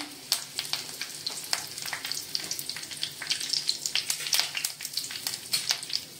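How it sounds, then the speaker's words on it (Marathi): Mustard seeds and curry leaves sizzling in hot oil for a tomato curry, a close, crackling fry with sharp popping bursts scattered throughout and no talking. "मोहरी भाजली की त्याच्यामध्ये आपण टाकूया कढीपत्ता"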